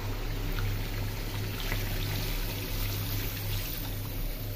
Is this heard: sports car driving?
no